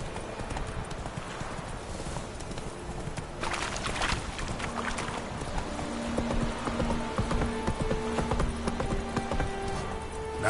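Roach, the horse in The Witcher 3 video game, gallops with a rapid, steady clip-clop of hooves, fairly quiet and continuous, alongside faint game ambience.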